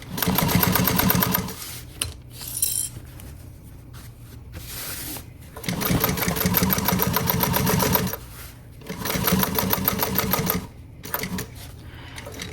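A sewing machine stitches the pocket of a pool tote in loud close bursts of rapid rattling, broken by short pauses where the needle stays down and the fabric is turned.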